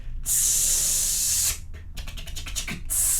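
A voice imitates a spray paint can with a long hissing spray, then a burst of rapid rattling puffs, then another hiss.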